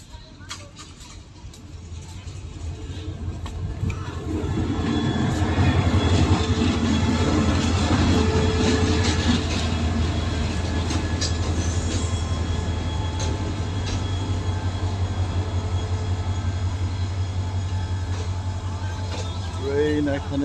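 A passenger train rolls through rural countryside past paddy fields, its deep rumble and clatter building and staying loud and close, with faint wheel squeals and a voice talking over it.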